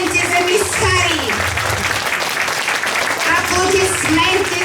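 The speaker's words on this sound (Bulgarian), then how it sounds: "Моля вашите аплодисменти за кралиците на тази вечерния бал в двореца." Applause from the audience at a kindergarten Christmas ball, steady clapping from a crowd that swells, eases slightly, then rises again over several seconds, with faint voices mixed in.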